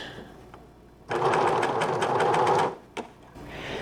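A sewing machine stitches a grey sweatshirt: a short rapid run of dense mechanical needle clatter for about a second and a half, with quiet handling noises before and a brief click after, close up.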